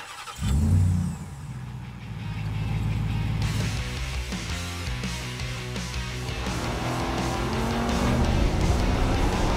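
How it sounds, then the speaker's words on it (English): The supercharged engine of a 2021 Ram 1500 TRX pickup truck fires up with a loud bark, then settles into a deep, steady rumble. Revs climb and build toward the end, heard up close with no talking. "the otherworldly powertrain in the Ram"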